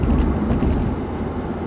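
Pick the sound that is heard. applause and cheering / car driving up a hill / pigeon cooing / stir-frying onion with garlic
car driving up a hill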